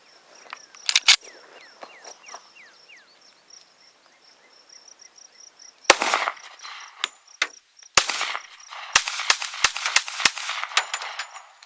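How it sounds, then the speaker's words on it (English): Shots from a Colt Commander 1911 pistol: a pair of sharp reports early, then after a pause a quick string of loud, closely spaced shots, with steady insect chirping in the background. "Alex, let's do what we love to do and just shoot the hell out of it"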